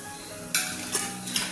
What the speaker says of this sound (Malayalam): ഇത് ഫ്രൈ ചെയ്തിട്ട് ബാക്കിയെല്ലാം നമുക്ക് ഫ്രൈ ചെയ്തെടുക്കാം